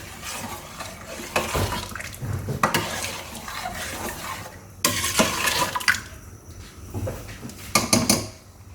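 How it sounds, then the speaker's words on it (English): Ofada stew with locust beans stirred in a pot, bursts of clattering spoon-on-pot scraping and wet stirring swells that come and go over a low bubbling background. "Then add your locust beans and stir very well."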